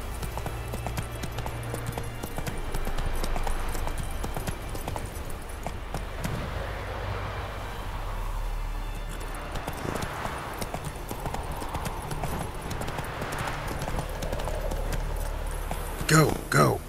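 Horse galloping in The Witcher 3: Wild Hunt, with steady rhythmic hoofbeats running throughout at close range under game ambience, and a person speaking briefly.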